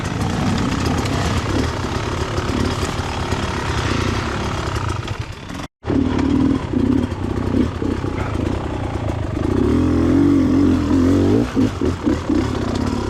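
An enduro dirt bike engine revs hard while climbing a slippery wet rock face, a loud, rough, continuous motor snarl that drops out for a moment, then surges back with throttle swells.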